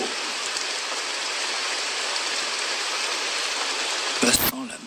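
Steady rain falling, an even hiss of drops on surfaces held at moderate level throughout, interrupted near the end by a brief louder burst.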